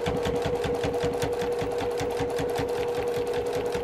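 A sewing machine runs a continuous seam on a zippy travel bag, its needle chattering in a fast, even rhythm over a steady motor hum, close and alone without talk.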